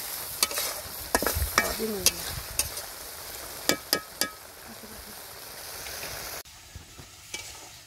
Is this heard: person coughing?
no